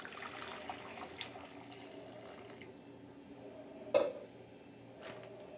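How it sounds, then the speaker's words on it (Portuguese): Hot water pours into a bowl while making fried kibbeh, a steady soft watery wash running under the whole stretch with a brief clink near the end. "Eu já vou começando a colocar aqui na nossa tigela 1 litro de água quente."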